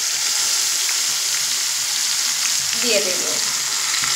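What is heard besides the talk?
potatoes frying in a pan as spices are added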